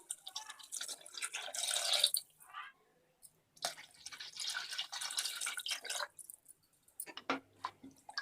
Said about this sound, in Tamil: 1 கப் அரிசிக்கு 2 கப் நம்ம தண்ணி விடணும்.